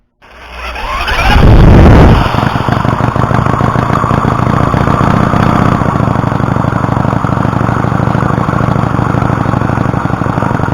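A Mini Hog mini bike engine cranks and catches after a brief rising start, then settles into a steady, loud, continuous running note with a faint high whine, close by, with no talking.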